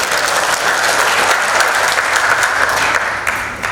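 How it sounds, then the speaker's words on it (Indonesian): Loud, dense applause from a large audience at a church-style economic outlook gathering, steady and continuous, tapering slightly near the end. "Tepuk tangan."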